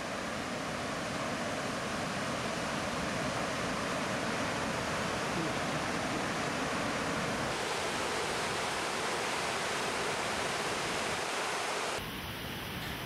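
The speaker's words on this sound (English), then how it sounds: "The sound of rushing water cascading down the rocks is intimidating." Cheong Waterfalls on the Cheong River in the Guyana highlands, rushing water cascading down rocks in a constant roaring wash, with a brief shift in tone near the end.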